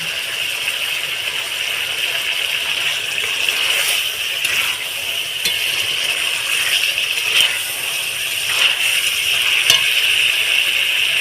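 Chicken curry gravy sizzles steadily in a pan after Kashmiri chili powder goes in, a constant frying hiss broken by occasional clinks and scrapes of a stirring spoon.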